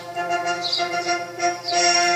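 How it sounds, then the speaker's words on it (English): Recorded garden birdsong played as a sound effect on a model railway layout, with bright chirps and trills rising over a steady tonal hum that runs through the whole passage. "there's our first sound, the garden birds"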